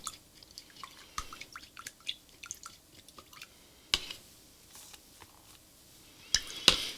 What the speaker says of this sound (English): just rinsing out a brush here